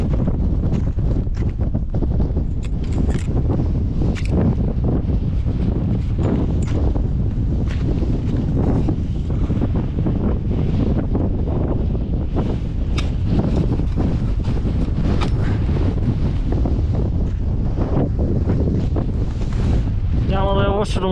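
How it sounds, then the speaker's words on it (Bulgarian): Strong wind blasts across a microphone in the Rila mountains in winter, giving a loud, constant low roar and buffeting for the whole stretch, with a brief voice near the end. "Доста ветровито."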